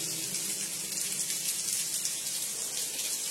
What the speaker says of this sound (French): Ah, la cascade est jolie comme ça.